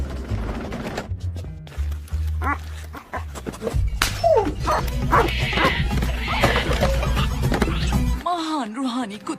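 A dog lets out several bow-wow barks and yips, mixed in with voices and a busy background.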